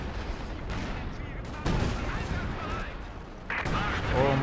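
Artillery fire in the World War II strategy game Company of Heroes 2 comes as repeated heavy blasts and gunfire bursts, with voices chattering underneath.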